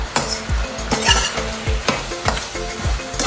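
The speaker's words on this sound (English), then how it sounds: "So we add this to the peas and mix it up" Peas in a pot being mixed with onion powder, garlic powder and salt, a spoon knocking and scraping rhythmically against the pot over a steady sizzle, close and clear.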